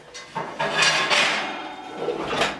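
A large skillet is handled, with a few close metallic clanks and scrapes against a hard surface, moderately loud and with no talking.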